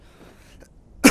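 A single sharp cough bursts out loudly at the very end after near silence, close to the microphone.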